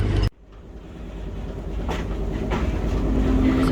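A Tasmanian tourist train rolling along its rails, starting with an abrupt cut, then a steady rumble that builds gradually, with faint rhythmic clicks and a thin tonal whine near the end.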